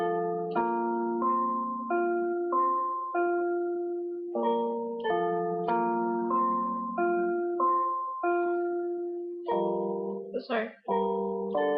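Left-hand piano part of a song is played slowly and clearly: sustained low chords and bass notes struck one after another in a steady pattern, each ringing out and fading, ending in a brief jumble of notes.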